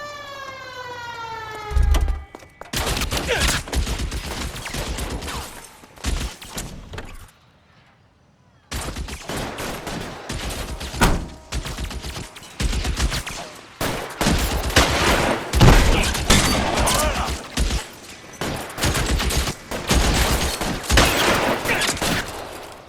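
Gunfire in the L.A. Noire video game: a siren wails at first, then dense rapid bursts of shots crackle loud and close for most of the stretch, with one brief silent gap.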